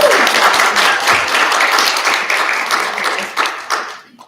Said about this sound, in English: All right, I need applause.